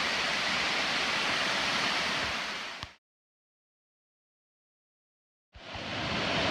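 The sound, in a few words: Laurel Falls waterfall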